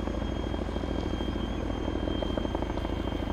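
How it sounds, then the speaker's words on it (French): A helicopter taking off in DayZ, rotor thumping in a steady, rapid beat over a dense engine whine, loud and continuous as if close overhead. "C'est un hélico qui démarre en plus, qui décolle."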